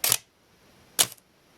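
A Minolta X-700 film camera shutter fires twice, sharp close clicks about a second apart against near silence, the second followed by a faint mechanical tick.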